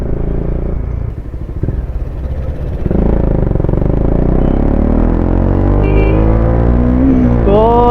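A KTM Duke 250 BS4 fitted with a Leo Vince exhaust pulls hard at speed, engine note climbing steadily with rising harmonics as it accelerates, loud and close with road rumble underneath.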